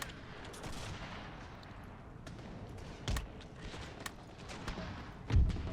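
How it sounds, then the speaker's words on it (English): Cannon artillery barrage in the Pike and Shot strategy video game: a steady crackle of distant gunfire with two heavier low booms, the second and louder one near the end. "into a barrage of cannon shot."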